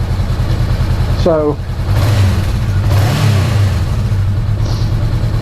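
A Honda NX500 motorcycle engine drones steadily while riding around a neighborhood, with a brief rising whine partway through and one short spoken word over the running engine.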